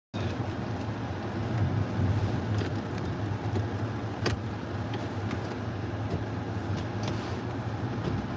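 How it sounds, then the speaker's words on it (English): A car engine idles while warming up, giving a steady, muffled broadband rumble heard from inside the car, with a few faint clicks and no talking. "I forgot I had my car running."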